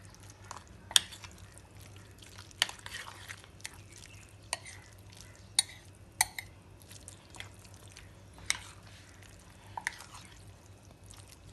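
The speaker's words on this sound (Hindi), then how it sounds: "और अब इसको चमचे की मदद से ना अच्छे से मिक्स कर लें" A spoon mixes a noodle mixture in a bowl, making soft, wet, irregular clicks and scrapes against the side spaced a second or two apart. The sound is quiet and close, over low background hum.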